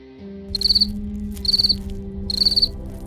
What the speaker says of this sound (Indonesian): ada seekor jangkrik yang bisa masuk ke dalam mobil